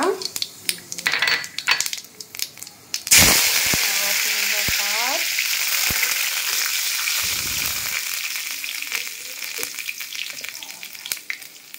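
Cumin seeds hit hot oil in a pan for dal, bursting into a loud, sustained sizzle after a few utensil clinks, with occasional scrapes and taps as the frying continues.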